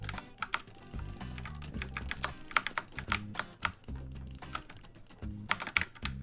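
Rapid, dense clicking from a mouse being jitter-clicked in a Minecraft Skywars fight rattles close and nearly continuous over low game sound, with sharp louder clicks scattered through it.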